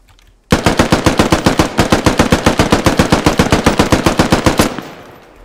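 A machine gun fires in the military shooter game Squad: one long, loud, close burst of rapid, evenly spaced rounds lasting about four seconds, with a short echoing fade after it.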